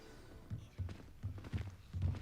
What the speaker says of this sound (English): Whoa, I hear 10 million footsteps.